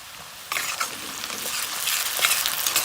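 Chili paste goes into a pan of half-fried onions for a mutton dish: a quiet sizzle jumps suddenly louder, then carries on as a steady crackle with stirring scrapes.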